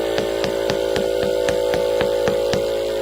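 An air pump steadily inflates an electric scooter's tubeless tire, giving a loud, constant mechanical drone with sharp rhythmic ticks about four times per second and no voices.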